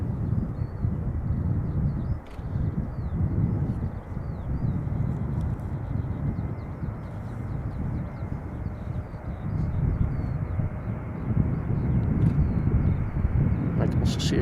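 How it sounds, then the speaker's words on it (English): A Delta Airlines Airbus A330-300 departs Schiphol Airport as a steady, loud, broad jet roar. The roar builds slightly toward the end, with faint bird chirps above it. "This is Delta Airlines Flight 133 A330-300 outbound Detroit, Michigan"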